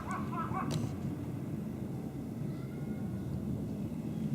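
A low, steady roar of an airplane passing overhead at a Shinto shrine in Yaizu, Japan, broad rumbling drone lasting throughout, distant but loud.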